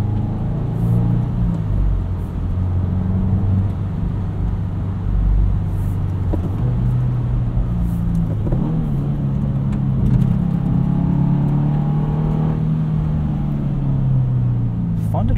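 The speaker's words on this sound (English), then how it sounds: "it makes Subaru boxer engine noises, which is ultimately what we want" A 2022 Subaru WRX boxer engine with a 6-speed manual drones low and steady in the cabin while driving, with a rumbling, uneven burble that swells slightly as it revs.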